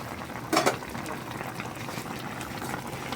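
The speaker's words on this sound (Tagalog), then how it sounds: "Kulo-kuloy muna natin ulit." Tilapia and vegetable paksiw simmering in a pot, a steady bubbling boil with a brief louder gush of liquid near the start, then continuing low and even.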